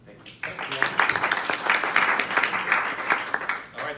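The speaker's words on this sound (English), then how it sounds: "So please give Andrew a round of applause and welcome" A conference audience gives a steady round of applause to welcome a speaker onto a Wikidata tutorial session, dense clapping rising quickly and holding for several seconds before tapering.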